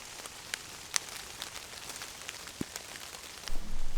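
Rain falls in a forest at night as a faint, steady patter of scattered drops, with a few sharper drips and a low rustle near the end, and no voices.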